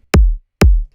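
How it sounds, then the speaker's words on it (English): An unprocessed electronic kick drum for a future rave track hits twice, each a punchy, loud thump with a deep booming tail, separated by brief silence. "Here I have a simple kick with no processing going on."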